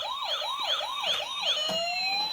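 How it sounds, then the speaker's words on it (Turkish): A toy ambulance's electronic siren wails in a fast, rising-and-falling pattern, loud and close, then settles into a steady sliding tone. "Işıklı ambulans açıyor musun"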